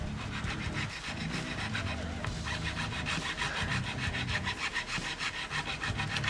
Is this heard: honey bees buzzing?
no